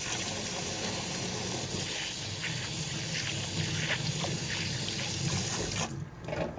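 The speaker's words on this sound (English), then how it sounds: "I'm going to wash my hand now." Water running from a kitchen tap while hands are washed: a steady, close rush and splash that continues almost throughout, then drops away abruptly near the end.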